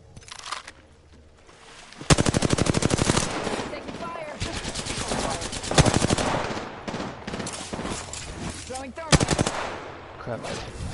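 Gunfire in a battle-royale style shooter video game, repeated loud rattling automatic bursts with short gaps between volleys, some closer and louder than others, and a voice speaking briefly between them.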